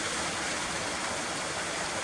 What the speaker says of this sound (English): you've got your water source coming from the waterfall there